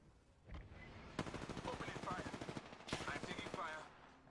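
Rapid automatic gunfire from an online video game match, dense sustained bursts with a brief pause between volleys, loud and close.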